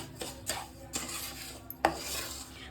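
Semolina being dry-roasted in a pan while a spoon stirs it, giving soft scraping rubs broken by several sharp metallic clinks of utensil on pan, close and quiet with no voices.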